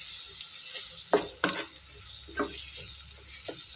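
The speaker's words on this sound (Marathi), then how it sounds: "छान परतून घेऊन आपल्याला छान शिजवून घ्यायचे आहेत त्याच्यामध्ये" Finely chopped tomatoes and onion sizzle in a pan under a steady frying hiss, with a few distinct stirring scrapes and taps of a utensil against the pan.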